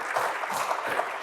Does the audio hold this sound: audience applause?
yes